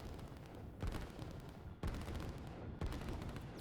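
Artillery fire in the strategy video game Line War, with repeated sharp booms landing every second or so over a dense, continuous rumble of battle noise.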